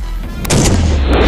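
An M16 rifle shot striking a Russian bulletproof shield, a single sharp loud crack followed by a short rumbling tail, heard close and alone.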